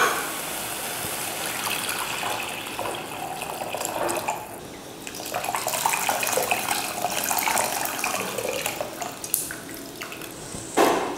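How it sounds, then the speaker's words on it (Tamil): Tamarind water pours steadily and splashes into a cooking pan for rasam, a continuous rushing gush that swells and eases for about ten seconds, fairly close and loud. "புளி தண்ணி சேர்த்துடலாம்."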